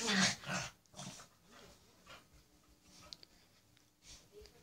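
Dogs in a trailer park room make soft, scattered growls and snuffling noises, faint and close, with quiet pauses between them.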